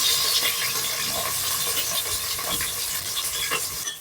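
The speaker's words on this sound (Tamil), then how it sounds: "எண்ணெய் நல்லா சூடாயிடுச்சுங்க. இப்போ நம்ம வந்துட்டு வெங்காயம் போட்டுக்கலாம்." Onions fry in hot oil inside a pressure cooker for a home-style beef curry, giving a steady close hiss with light crackles throughout and no talking.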